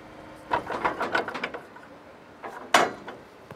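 Rigging work on a Palfinger crane: a cluster of quick metallic clicks and rattles as rope runs through a pulley, a pause, then a sharper clank as a bolt is released, close by with no talk.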